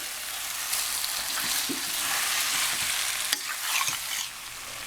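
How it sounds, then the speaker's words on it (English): Fish pieces fry in hot oil with curry spices in a Guyanese gilbacka curry, a steady broadband sizzle with the scrape and clatter of a spoon stirring them a few times, close and continuous, no voices. "So this way the fish can fry up really nice inside of all the spices."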